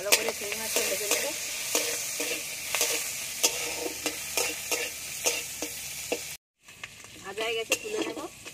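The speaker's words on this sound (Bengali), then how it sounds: "ভালো করে চিংড়ি মাছটা ভেজে নেব।" Shrimp sizzling in a hot wok with salt and turmeric, a continuous frying hiss broken by repeated sharp scrapes of stirring, close and loud, with a short silent cut near the end before the sizzle resumes.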